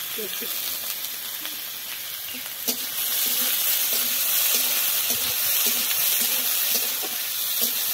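Carrots fry in ghee in a wok, sizzling steadily and close up, with scattered clicks and scrapes of stirring throughout.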